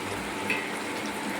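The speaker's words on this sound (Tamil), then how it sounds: "அதுவும் 2 நிமிஷம் எண்ணெயிலே வதக்கிடலாங்க." Onions sauté in oil in a pan, giving a soft, steady sizzle at moderate volume, heard alone with no talk.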